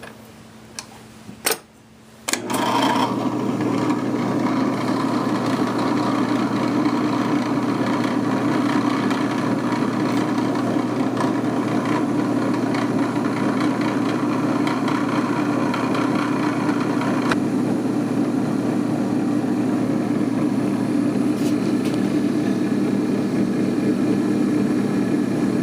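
A power drill fitted with a threading bit runs steadily for a long stretch while tapping a hole for a red dot scope base on a Heritage Arms Rough Rider revolver, a loud continuous whir after a few brief clicks.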